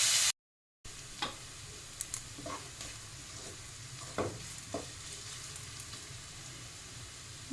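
Carrots and vegetables for Bengali-style fried rice frying lightly in a pan, a faint continuous sizzle with occasional soft clicks and scrapes of stirring, no talking.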